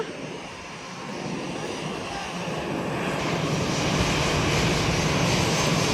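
A loud, steady roar of airplane jet engines, broadband and building slightly in intensity, close by with no talking.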